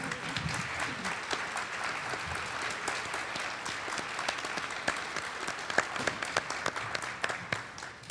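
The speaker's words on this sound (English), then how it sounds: "could you please stand and let's give them all a round of applause." Applause from a conference audience at a main-stage STEM session, a continuous bed of many hands clapping at moderate distance, with a few sharper individual claps standing out toward the end.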